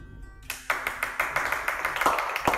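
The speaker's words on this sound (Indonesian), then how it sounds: "Tepuk tangan." Scattered clapping from a small audience in a talk-show setting, a few individual claps starting abruptly after a quiet moment, then a light, uneven patter, fairly close and modest in volume.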